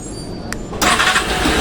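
A Suzuki Access motorcycle fitted with an anti-theft alarm starts by remote, with a brief click, then the engine catching and settling into a loud, rough, steady idle close by.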